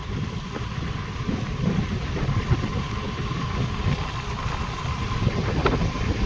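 An Activa scooter on the move, with a continuous engine hum and rushing road and wind noise at a steady level throughout.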